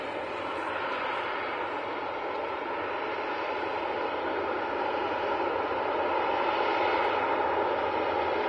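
A Ryanair Boeing 737 departs Manchester Airport, heard as a steady, moderately distant engine roar with a broad hiss that holds throughout and builds slightly toward the end.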